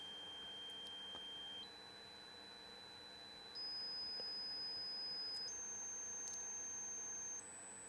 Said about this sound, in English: One of the best things about audio testing is listening to these 5 to 20 kHz tones.